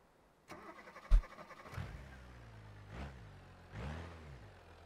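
A simulated car in BeamNG.Drive starts up and pulls away over a short distance, several separate engine bursts and revs, fairly quiet, with no talking.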